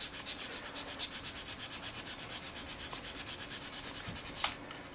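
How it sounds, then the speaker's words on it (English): Hand sanding with sandpaper, a close, steady back-and-forth scratching in a quick even rhythm of roughly five strokes per second, ending with a brief louder scrape. "Just sand it a bit."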